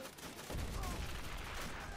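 Machine-gun fire from an MG position in a WW1 video game, a rapid dense rattling burst from a distance that becomes louder and sustained partway through, with no speech.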